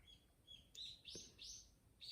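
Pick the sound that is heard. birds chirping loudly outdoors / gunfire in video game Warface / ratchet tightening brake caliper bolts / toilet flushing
birds chirping loudly outdoors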